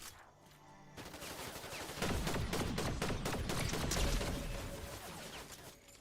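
Fortnite gunfire: a dense, continuous stream of rapid shots and overlapping bursts, loud and close, building after the first second and staying busy, with the crackle of multiple weapons layered together.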